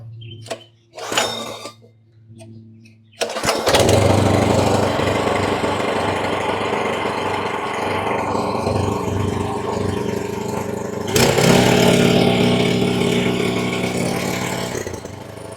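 A Mollar MLR-HPW2500E gasoline high pressure washer engine starts after a couple of pulls, catches with a roar and idles loudly and steadily, then surges once before settling back.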